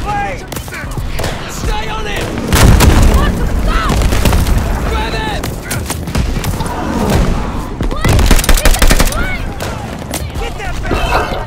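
Gunfire and explosive booms from the Call of Duty Vanguard campaign break out in loud bursts and volleys, with heavy thuds and battle noise under shouted voices.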